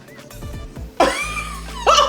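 A person lets out loud burps during a burping contest where the winner gets root beer; the first burps are softer, then a long, loud belch at about one second and a shorter one near the end, close to the mic.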